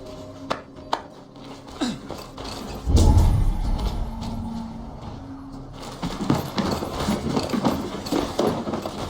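A horse in Assassin's Creed Valhalla clip-clops at a steady pace after a few sharp knocks and a heavy thump, with creaking tack and a rumbling bed of game ambience.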